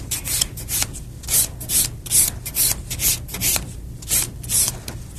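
A nail file rasping back and forth around the cuticle area of a fingernail during a salon nail fill, in steady rhythmic strokes, close and fairly loud, with no talking.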